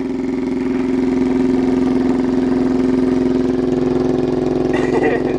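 Straight-piped Chinese quad with a homemade snorkel, its engine droning loud and steady at close range through water and mud; no voices.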